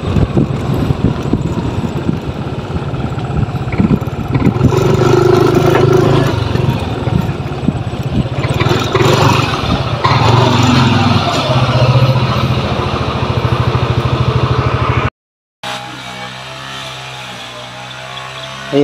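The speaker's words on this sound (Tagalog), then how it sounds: "Mahina na bumatak yung motor ko." A motorcycle that has lost power and pulls weakly drones steadily while being ridden, with heavy wind buffeting the microphone. The sound cuts out briefly near the end, then returns more quietly.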